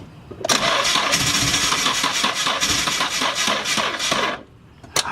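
A car engine cranking on a weak, dead battery, a loud continuous labored starter grind lasting about four seconds without catching, then stopping, close up.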